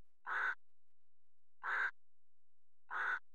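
A crow caws in the video game Tomb Raider 2, three evenly spaced, identical harsh calls over silence, each about a quarter second long.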